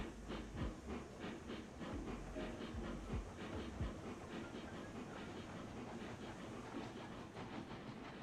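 A train running on rails in Railroads Online, heading back to a lumber camp, gives off a faint steady rhythmic clickety-clack with a low hiss, quiet and even throughout.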